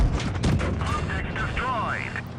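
Tank cannon fire booms in the World of Tanks video game during a VK 30 02 M match, with a couple of heavy blasts early on, then fades into whistling in-game tones while a player talks over it.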